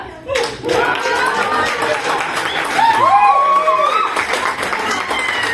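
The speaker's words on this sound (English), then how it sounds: "Please give them a big round of applause" An audience claps and cheers for women finishing a ramp walk at a staged show, with sustained clapping and a few whoops rising midway, under a busy hall murmur.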